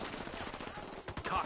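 Rapid bursts of automatic gunfire crackle through a tense firefight in the Ghost Recon game, with shots stacking into a dense, loud volley that surges toward the end.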